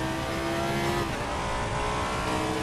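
A racing car engine in a racing simulator game roars at high revs, loud and continuous with a slight pitch shift, alone with no voices.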